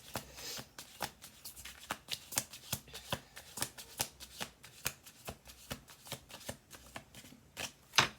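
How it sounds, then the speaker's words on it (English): Cards being shuffled over and over in quick riffling bursts, with steady snapping pulses close by and no talking. "One more shuffle, please and thank you."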